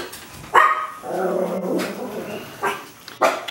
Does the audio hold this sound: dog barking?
yes